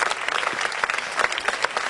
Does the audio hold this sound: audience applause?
yes